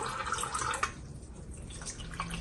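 Water poured into whole wheat flour for dough, a faint trickling and dripping pour, close and quiet, with a soft splash near the start.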